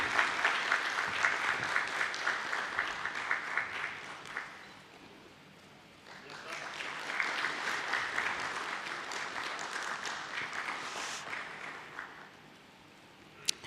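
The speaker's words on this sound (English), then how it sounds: "Please keep the applause going" Audience applause at a stock exchange listing ceremony for Getalong Enterprise Ltd, steady clapping from a crowd in two sustained bursts separated by a brief lull, fading out at the end.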